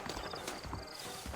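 A ridden horse walks along with a few soft, uneven clip-clops of hooves, close and fairly quiet over a steady background.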